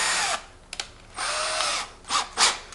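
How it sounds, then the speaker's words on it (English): A Craftsman 19.2V C3 cordless drill bores into a piece of metal in short bursts, its motor whining loud and close, with a few brief clicks between runs and no talk over it. "we'll try drilling"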